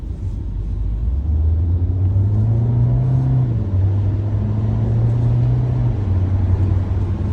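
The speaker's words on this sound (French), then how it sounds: "J'ai une petite ligne droite, ce qui va me permettre de pouvoir accélérer un peu." A Renault Clio's engine hums steadily with low rumble, pitch rising gradually as it accelerates down a straight, loud and close throughout.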